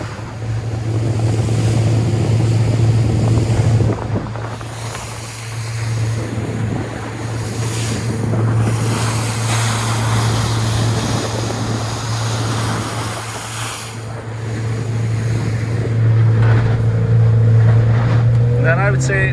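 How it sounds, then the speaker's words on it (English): A Yamarin 59c boat runs with a Yamaha 100HP outboard at 3400 RPM, a steady engine drone under rushing water, wave splash and wind buffeting the microphone, continuous and fairly loud. "That's us running at 3400 RPM. We're doing 16 miles an hour or so."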